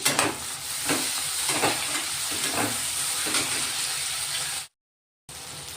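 Tomato fries in a pan with onions as it is stirred: a steady close sizzle with repeated scraping strokes of the spoon, then a brief gap of silence before the sizzling resumes.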